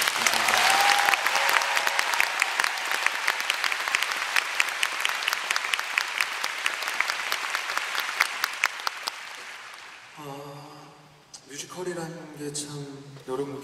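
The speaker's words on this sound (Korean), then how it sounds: "큰 박수 한번 부탁드립니다." Sustained, dense audience applause at a concert, loud and close for about ten seconds before fading, after which a person begins speaking.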